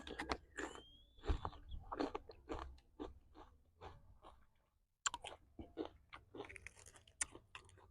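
Close, crisp crunching and chewing of pickled raw shrimp in fish sauce, eaten with spicy dipping sauce, with irregular bites and wet smacking over eight seconds and a brief pause midway.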